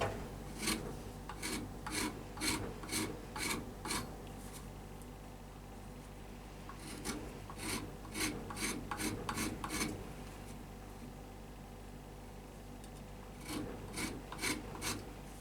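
A hand scraper works a ridge down on a hickory pyramid bow with ebony overlays, giving bursts of rhythmic rasping strokes in quick groups, close and steady, with short pauses between the sets.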